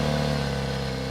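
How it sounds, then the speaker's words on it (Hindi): A car engine runs at a steady idle, a smooth continuous hum with strong low tonal bands and a faint even rhythm, moderately loud and alone without voices. "धीरज गाड़ी स्टार्ट कर देता है और वो लोग आगे बढ़ जाते हैं।"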